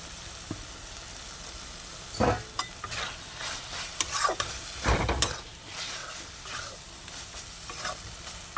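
Shrimp sizzle and fry in a pan during a dry stir-fry, with a steady crackle broken by scraping stirs and a couple of louder clatters of a utensil against the pan.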